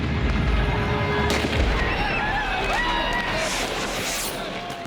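Powerful firecrackers and fireworks burst near a dense crowd, with sharp cracking blasts and whistling rockets over a constant loud crowd roar and voices.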